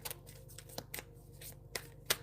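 Cards shuffled by hand, a series of soft riffling swishes and papery taps spaced unevenly, quiet and close with nothing else over them.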